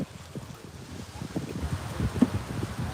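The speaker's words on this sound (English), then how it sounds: "A little bit windy today." Wind gusting across a beach in Playa del Carmen, Mexico at sunrise, a steady low rumble of microphone buffeting that builds slightly toward the end, with faint surf-like wash underneath and no talking.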